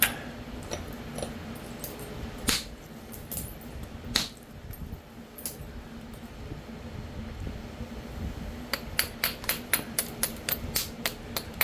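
A hammer strikes a fire-damaged stone nodule to spall and trim off the rough outer material. Scattered sharp knocks come first, then a quick run of about a dozen rhythmic close hits, with no talking.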